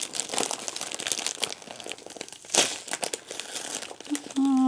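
Plastic packaging of a diamond painting kit being unwrapped and opened, a continuous close crinkling and crumpling with a sharper tear midway, ending in a short tonal squeak.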